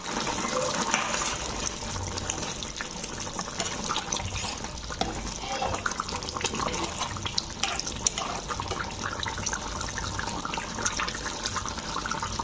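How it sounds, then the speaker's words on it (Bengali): Water pours steadily into a pot of mutton curry, a continuous splashing gush that holds at an even level throughout. "এখন আমি পরিমাণ মতো পানি দিয়ে দিব।"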